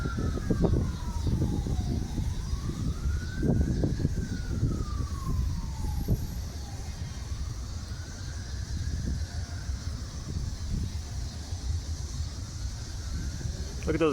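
Wailing emergency vehicle sirens pass outside near an old workhouse, their rising and falling tones sweeping repeatedly over loud street rumble while someone talks intermittently.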